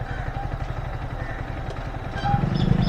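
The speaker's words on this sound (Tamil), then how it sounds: "இந்த ஒரு பைக்கு வெளில வருது." A motorcycle is handled and moved near a temple in Thanjavur, giving a steady low engine rumble with some clatter close by. The engine swells slightly louder toward the end.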